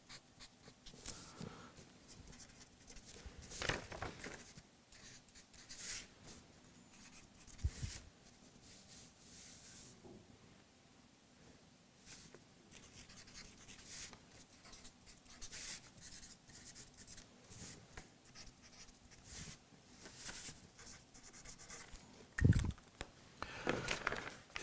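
Quiet, intermittent scratching and rubbing of a pen writing on paper, in short bursts with pauses, close and faint in a room.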